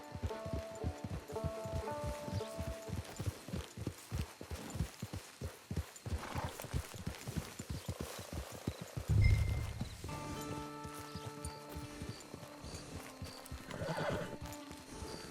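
A horse in the video game Red Dead Online galloping with rapid rhythmic hoofbeats, then a loud close whinny midway, followed by softer movement and game music tones.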